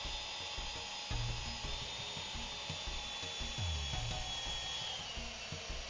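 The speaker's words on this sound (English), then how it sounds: "Pre-drill your hole." A power drill pre-drills a screw hole in a wooden gate stop rail, giving a high, steady whine with short bursts of bit-biting grind. It is fairly faint with no voices.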